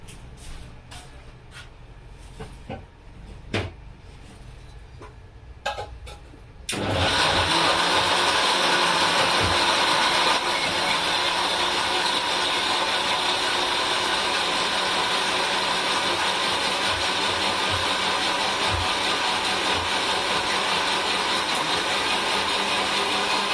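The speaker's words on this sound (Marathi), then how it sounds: "मिक्सरमध्ये बारीक करून घेऊ" A kitchen mixer grinder starts up after quiet handling sounds and runs loud and steady, grinding cake batter ingredients with milk for an oven-free homemade cake, its whirring drone continuing alone to the end.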